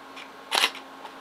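A Pentax K-7 DSLR shutter fires once at 1/8000 second, a single crisp mechanical click-clack near the microphone against a quiet background.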